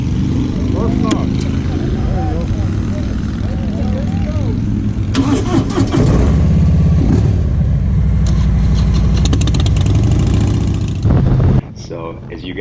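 2019 Harley-Davidson Road King Special touring motorcycle engine cranking and catching, then a loud, close, rumbling idle with some revving while people talk over it.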